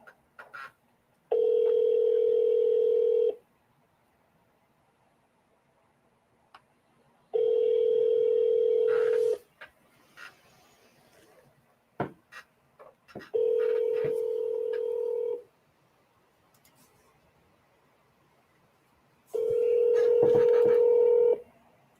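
Telephone call-connecting tones: four long, steady ringback-style tone bursts, clear and evenly spaced, separated by quiet gaps with a few faint clicks, and no talking.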